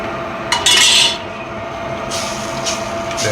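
A spoon scrapes and clinks against the pan while porcini risotto is stirred, with sharp metallic scraping bursts over a steady background hum in the kitchen.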